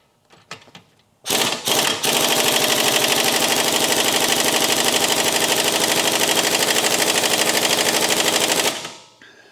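A tired electric steering rack motor from a 2015 Volkswagen Jetta whirs with a loud, steady rapid buzz for about seven seconds, then cuts off, after a few brief clicks.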